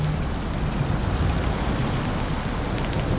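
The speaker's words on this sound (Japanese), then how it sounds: "雨の表現とか結構いいですね" Rain in the video game GIFT, a dense, steady downpour hiss with low rumbling underneath, loud and continuous with no voices.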